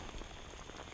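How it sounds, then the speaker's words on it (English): Heavy rain pours down in a dense, steady hiss of drops striking surfaces, filling the whole moment with no voices. "It is pouring down rain, and I just caught this fish."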